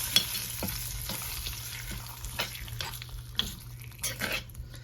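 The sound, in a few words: stirring ridge gourd chutney ingredients in a pan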